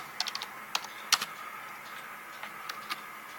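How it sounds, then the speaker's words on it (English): One-handed typing on a computer keyboard while logging an amateur radio contact: sparse, irregular clicking keystrokes, some in quick clusters, fairly quiet against a low steady room hiss, with no talking. "I'm typing one-handed."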